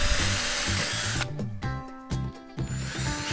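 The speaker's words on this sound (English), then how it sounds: "This is the drill." A power drill whirs loudly at close range, running in several bursts that stop and restart with short pauses between.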